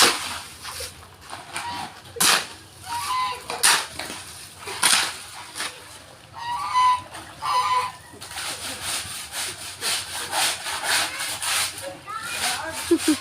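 Geese honk repeatedly at moderate distance in a rural yard, with raspy calls in uneven bursts mixed among people talking and other farm birds.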